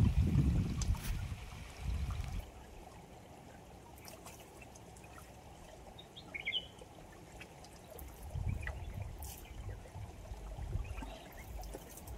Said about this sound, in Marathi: झरीला आता थोडासा पाणी चालू आहे. इकडे एक पाण्याचा झरा आहे